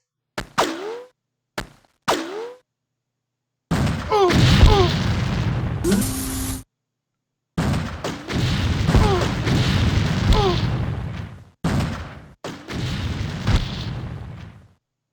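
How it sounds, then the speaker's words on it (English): Plasma pistol fire in the X-Com Apocalypse video game: booming sci-fi shots with descending warbling zaps, arriving in short bursts separated by silences, loud and close with game sound effects layered around them. "Even if they are shooting you with a plasma pistol to the face."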